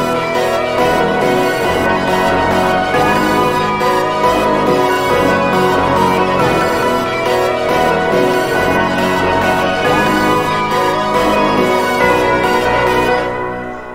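A layered Final Fantasy style type beat plays back alone from start to finish, a dense, bright, continuous mix of tones that cuts off abruptly at the end.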